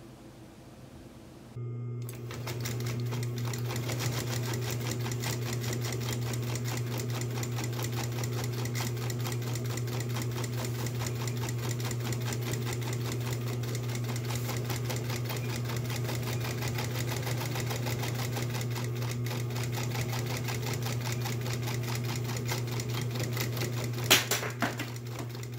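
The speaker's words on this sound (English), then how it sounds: "So now I'm going to do top stitch all the way around the whole thing." A sewing machine runs steadily for about twenty-five seconds, top stitching all the way around a clutch wallet. The loud, even mechanical hum and rapid needle chatter continue without pause or talk after a brief start.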